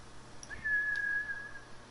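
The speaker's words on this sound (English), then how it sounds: "Red Dead whistle, bro. Calling your horse." A single long whistle calls a horse in the Red Dead Redemption video game, a sustained steady tone lasting about a second, clear and fairly close above a low background hum, with no talking.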